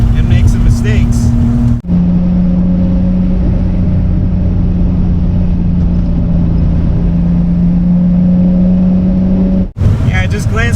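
A BMW E30 engine drones steadily from inside the car as it drives on a track. The engine note holds at a constant pitch, loud and close, with brief breaks near the start and end where a voice is heard.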